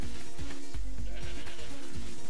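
Goat man in the video game Guacamelee! gives a loud, wavering bleat with a quavering, stuttering pulse, close and alone, lasting the whole moment.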